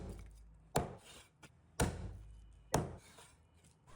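Three heavy cleaver chops strike duck meat on a board, evenly spaced about a second apart, each a sharp close thud with a short ring-off and a faint tap between, no talking.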